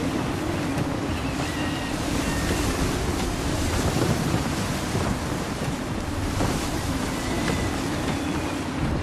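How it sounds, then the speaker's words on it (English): Steady gusty wind and rolling ocean surf at sea in Assassin's Creed 3, a dense continuous wash of noise with a sailing ship under way, loud and unbroken throughout with no voices. "Wind looks to be shifting. Stay alert, Connor. Gusty winds can be difficult to manage."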